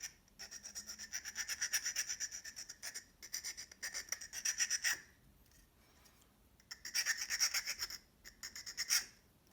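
A metal file rasps back and forth against a pewter piece being fitted to a pin, making bursts of quick, steady scraping strokes with short pauses between them, close up with no voices.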